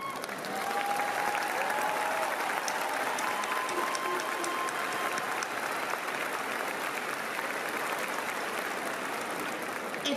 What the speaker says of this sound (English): please give them a round of applause for their dedication.